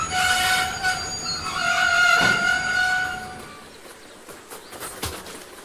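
A train rolling on rails with loud, sustained wheel squeal at first, fading into clattering and rumbling of the cars, plus a sharp knock near the end.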